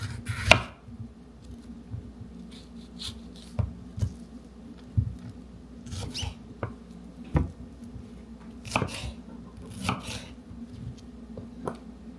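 Vegetables being cut into long pieces for dipping make irregular knife chops on a cutting board, each a crisp thunk separated by short pauses. The chopping is close and alone, with no talk.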